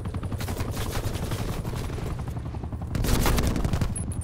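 Rapid automatic gunfire bursts in Call of Duty Black Ops Cold War, loud and dense throughout, growing heavier near the end with booming shots under a constant battle din.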